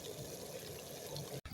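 Water pours steadily into a pot to boil for eba, a soft Nigerian cassava dish. A continuous close gushing runs for over a second, then breaks off briefly near the end.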